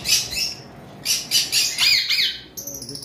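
Cockatiels, white-face pied birds, call from close by in a series of sharp, shrill squawks and chirps with short pauses between bursts, loud and clear with no talking.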